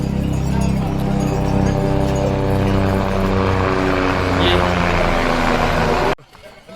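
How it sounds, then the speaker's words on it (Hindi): A helicopter in the mountains near Kedarnath gives a loud, steady, throbbing rotor drone that continues for about six seconds and then cuts off abruptly. A person talks over it. "ये देखेंगे फिर से एक हेलीकॉप्टर आ रहा है हमारी तरफ"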